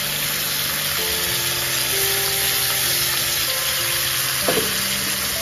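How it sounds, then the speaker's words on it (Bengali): Cauliflower fries with ground spice paste in a pan, giving a dense, constant sizzle that stays close and even throughout, with no speech over it. "এবার এর মধ্যে পিষে রাখা মশলাটা দিয়ে দেব।"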